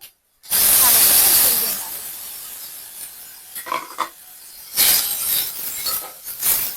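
Sprouted moth beans tipped into very hot oil with mustard seeds and turmeric, a loud sudden sizzle that fades into crackling and spitting, then flares again in short bursts.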